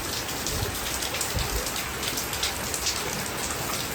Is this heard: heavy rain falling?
yes